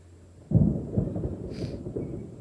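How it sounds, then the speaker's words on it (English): Thunder from an approaching storm rolls in with a sudden deep rumble that swells and then lingers as a long, low, fading growl. "We're about to get a storm."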